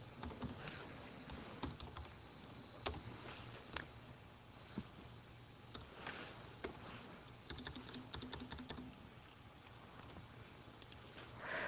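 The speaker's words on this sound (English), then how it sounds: "I actually find it quite tricky to talk while I'm typing, so I'll just type" Someone types on a computer keyboard in a quiet room, with irregular bursts of close, crisp key clicks and short pauses between them, and no one speaks.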